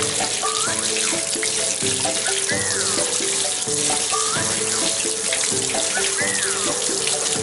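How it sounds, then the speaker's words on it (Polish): Lukewarm tap water runs steadily over a CD in a sink after toothpaste has been rubbed onto its underside. The rinse gives a continuous, close hiss and splash, with a faint background tune underneath. "Dokładnie rozetrzyj, a następnie spłucz letnią wodą."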